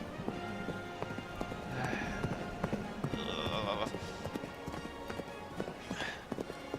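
Galloping hooves drum in a steady rhythm over a background of ambient game music, with a brief whinny partway through.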